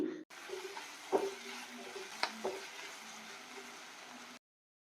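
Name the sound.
vegetables and capsicum stir-frying in a pan for fried rice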